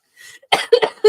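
Someone coughs at close range, a few sharp, loud hacking bursts in quick succession after a brief breathy lead-in.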